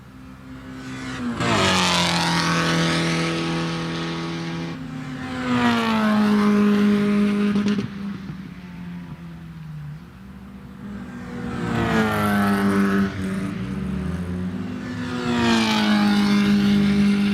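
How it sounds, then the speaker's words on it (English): Mazda Miata race cars at Lime Rock Park during a Miatacon practice and qualifying session, one pulling into the pits; engines rev up and fall away in several loud, close surges with gear changes and no talk. "Tom Rush brings the number 21 into the pits."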